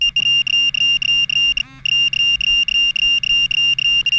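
A Pro-Find metal detector held over a nail gives a loud, high pulsing tone, broken into rapid regular beeps like a fire alarm, repeating steadily throughout with a brief gap in the middle.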